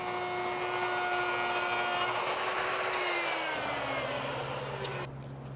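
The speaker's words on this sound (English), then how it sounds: "When you're using the router to hack off the outer edge of your face frame, make sure to go in a counterclockwise direction." A handheld router trims the outer edge of a wooden face frame, a loud, steady, close-up whine of cutting that shifts pitch slightly near the end as the cut finishes.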